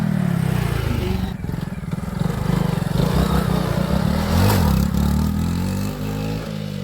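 A Hero Splendor motorcycle engine runs close by with a steady low throbbing rumble that rises slightly in pitch as it revs, with rattling clatter over it.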